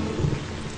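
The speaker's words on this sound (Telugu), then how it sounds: "వర్షం," Rain and thunder as a movie sound effect: a short burst of steady, hissing rainfall with a low thunder rumble underneath, moderately loud, with no voices.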